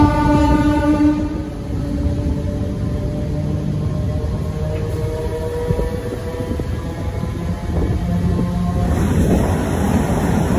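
MEMU passenger train on the Bhadrak to Cuttack line rolling steadily for the whole stretch, a loud, continuous rumble of wheels and carriage noise with sustained humming tones, heard from inside close up and with no talking.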